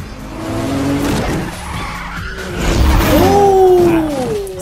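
Cars race and skid in a street-racing scene from a Fast and Furious film, with loud tire squeals rising and sliding in pitch over a steady engine roar, the squeals strongest in the second half.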